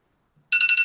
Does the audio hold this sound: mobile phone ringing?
yes